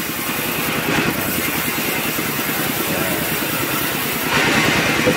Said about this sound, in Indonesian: nah inilah namanya mesin pemotong atau